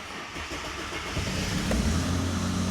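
A car engine, with beer in its system, turns over and fires up partway through, then settles into a low, steady idle nearby.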